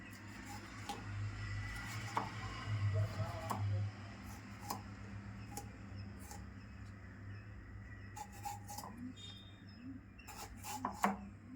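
A knife chops ingredients into small pieces on a board for a tempering while Malvani-style tomato curry is being made, giving scattered irregular taps, some in quick clusters, against a low steady hum in a home kitchen.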